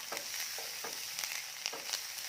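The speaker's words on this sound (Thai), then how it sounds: "แล้วก็ผัดเห็ดให้หอมเลยนะคะ" Mushrooms stir-fried in a pan give a steady close sizzle, broken by several soft scraping strokes of the spatula at an even pace, with no talking.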